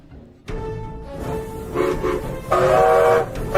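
A train whistle sounds in steady tones over rumbling rail noise, its blasts swelling louder in pulses toward the end.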